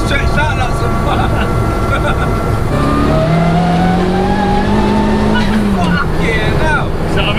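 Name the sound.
340bhp Peugeot 106 turbo car engine revving while driving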